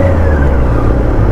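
A QJ SRK 600 motorcycle with an inline four-cylinder engine gives a loud, close, steady engine drone with a smooth tone for a short moment, no talking.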